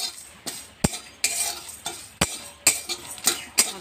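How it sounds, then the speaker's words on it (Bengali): Whole cumin, panch phoron and a couple of dried chillies fry in a wok, a light crackle broken by sharp metal scrapes and clinks of a spoon stirring in repeated strokes, close and fairly loud, with no voices. "এইবারে দেখুন মশলাগুলো ভেজে নেব।"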